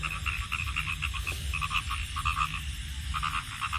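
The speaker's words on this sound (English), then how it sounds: "A small creature, but it amplifies the loudest sound. It croaks louder." Frogs croaking in a natural outdoor setting, a dense chorus of repeated pulsing calls that carries on steadily throughout, loud and close, with no voices.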